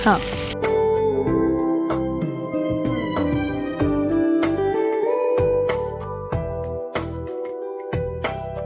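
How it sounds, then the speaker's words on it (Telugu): Brown basmati rice stir-fried with garlic in a pan sizzles and scrapes under a spoon or spatula, with rhythmic clinks and stirring, while background music plays throughout. "ఇప్పుడు మనం రైస్ కూడా యాడ్ చేసేద్దాం. అలాగే brown rice, brown basmati rice"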